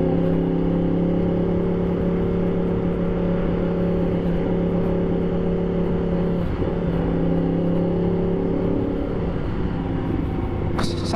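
Yamaha MT-10 SP motorcycle fitted with an Akrapovic exhaust, ridden hard on the road; a loud, steady engine drone with strong harmonics holds throughout, with a brief shift in pitch near the end.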